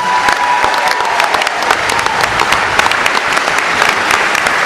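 A crowd applauds county sheriffs, loud and steady clapping with scattered sharp individual claps filling the whole moment.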